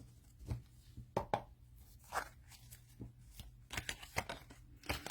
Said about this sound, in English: give them a quick shuffle.